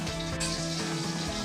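Bay leaves and green chillies frying in hot oil for soya pulao, a steady close sizzle with faint crackling throughout.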